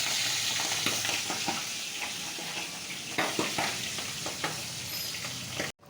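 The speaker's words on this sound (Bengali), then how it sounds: "এবার আমি মাছগুলোকে দিয়ে দেব, একটা করে মাছ দিয়ে দেবো।" Pabda fish frying in hot oil in a heated kadai, a steady loud sizzle with scattered crackles and light utensil clicks, no voices.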